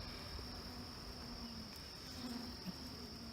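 Honey bees buzz steadily throughout a package-bee hive inspection, giving a faint, continuous drone with a thin high whine running on top and no voices.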